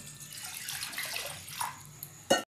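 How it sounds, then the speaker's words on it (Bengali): Water is poured into a cooking pot to boil banana flower, a short soft splashing trickle that ends with a brief louder clink near the end. "সিদ্ধ করার জন্য দিয়ে দিচ্ছি জল"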